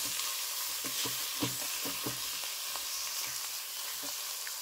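Chicken stock going into a simmering pan of mushroom velouté. A continuous bubbling sizzle carries scattered soft stirring knocks, fairly faint and close, with no voices.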